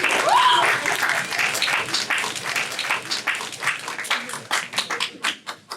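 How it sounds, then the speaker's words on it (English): Middle school debate audience applauds in a dense burst of clapping that thins out into scattered, sharper individual claps as it fades. "Let's get a round of applause."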